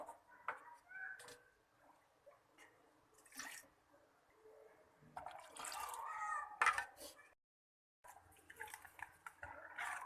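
Thin rice batter for neer dosa is stirred with added water in a bowl. It makes faint, intermittent wet sloshing and splashing, with a brief silent gap partway through.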